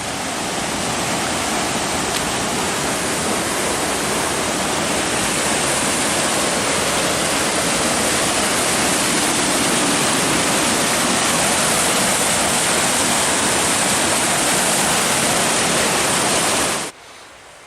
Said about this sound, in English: we are coming down to our lunch spot by this waterfall, and it is absolutely ripping.